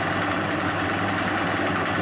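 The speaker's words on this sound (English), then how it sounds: "During the polishing, the specimen should be held firmly in contact with the polishing wheel, rotated or moved around the wheel to keep an even polish." A metallurgy specimen polishing wheel spins with a steady, even motor hum and a broad whirring hiss, close and constant throughout the short stretch.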